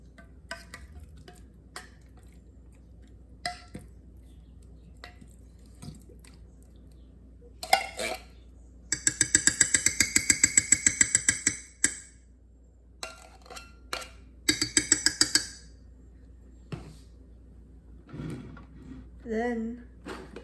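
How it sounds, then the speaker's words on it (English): A can of cream of mushroom soup goes into a slow cooker hobo casserole, with scattered clicks and taps, then a run of rapid rhythmic scraping from a spoon against the can, more short scrapes, and brief talk near the end. "And then we need to add the can of cream of mushroom soup."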